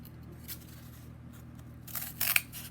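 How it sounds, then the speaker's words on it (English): Scissors snipping an oval shape out of cardboard, a couple of quiet close cuts ending in a brighter crisp snip, with a faint low hum behind. "I'm going to cut this oval out"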